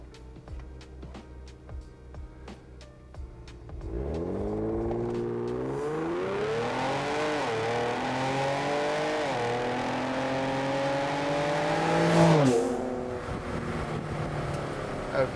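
A Ford Explorer ST in sport mode on stock calibration accelerates hard from a standstill, engine note climbing steadily through several gear changes with brief dips between shifts, loud and close, with no talk over it.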